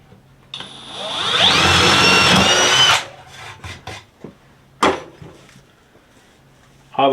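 Power drill boring a hole through a wooden fence picket, a loud rising whine for about two and a half seconds, followed by quieter handling knocks and clatter.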